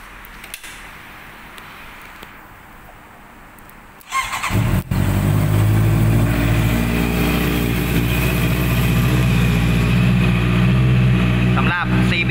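A 2018 Honda CB650F ABS motorcycle with a Yoshimura exhaust starts up after a few quiet seconds, then settles into a loud, steady close-up idle with a brief squeal near the end.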